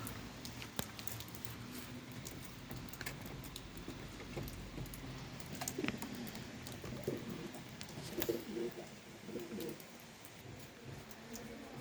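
Pigeons, including a feathered-foot wild pigeon, coo softly in low repeated murmurs amid faint shuffling and pattering, quiet and a little distant.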